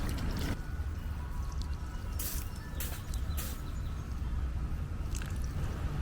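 Fresh water is poured out for farm animals during homestead chores with kids, a splashing, gurgling pour with a few squishy drips, steady and fairly close, with no talking.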